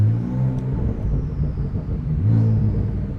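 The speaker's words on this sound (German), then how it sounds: "Auch allein schon Standgas hier im Stand, wie das Ding richtig schön tief böse klingt." A G-Power tuned Porsche 992 Turbo S idling at a standstill, its exhaust giving a deep, bassy, menacing rumble that stays steady and loud close by, with brief slight swells.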